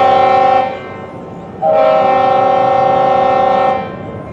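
Nathan RS5T horn on a CSX GP40-2 locomotive and slug set at Goldsboro sounds loud and close, a short blast followed by a longer sustained one with a brief drop between.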